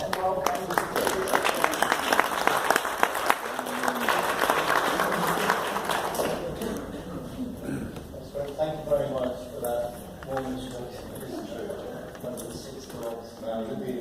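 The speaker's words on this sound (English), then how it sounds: "So let's give a warm applause and welcome" An audience applauds warmly to welcome a speaker at a talk, loud crowd clapping for about six seconds that then fades into quieter room sound with a voice speaking.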